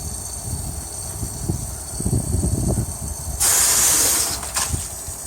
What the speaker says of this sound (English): now we'll just give it a blast with the air compressor